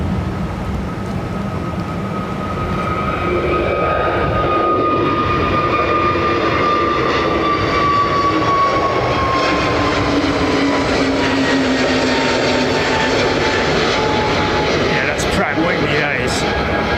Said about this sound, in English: I'm pretty sure that's a Pratt & Whitney on the TAP 320neo that's just gone out.